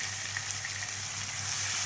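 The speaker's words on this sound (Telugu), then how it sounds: "సన్నగా కట్ చేసి పెట్టుకున్న, ముందే రెడీ చేసి పెట్టుకున్న టమాటాలు కొంచెం అవి బాగా మగ్గేంత వరకు వేయించుకోవాలి." Finely chopped tomatoes frying in a pan, giving a steady, even sizzle with a continuous hiss and no pauses, close up and fairly loud, with no voices.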